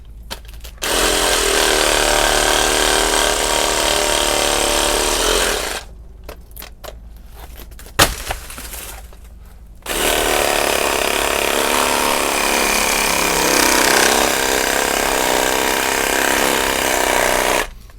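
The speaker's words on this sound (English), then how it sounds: "This reciprocating saw sure does the trick." A reciprocating saw rasps steadily through a banana tree trunk, a loud continuous buzzing cut that stops briefly with a few clunks, then resumes at full intensity for several more seconds.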